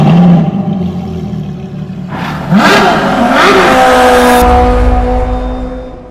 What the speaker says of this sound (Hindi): वहाँ खड़ी है मस्टैंग GT 500 शेल्बी एडिशन